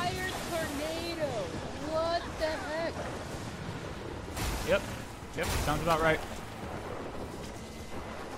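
A roaring wind flare storm in Gears 5 sweeps through with broad gusting rush and bursts of crackling debris, while game characters and a player talk over it.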